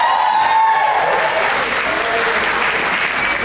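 A comedy club audience at a stand-up set at Stardome applauds and cheers for teachers, a dense burst of clapping and whoops that holds steady for a few seconds, close and loud with no talk over it.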